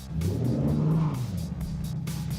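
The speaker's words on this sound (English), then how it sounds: "let's hear what that new exhaust sounds like" A Ford XR8 with a new exhaust revs hard, a loud, throaty rumble that swells and falls with the throttle for a couple of seconds, close and on its own.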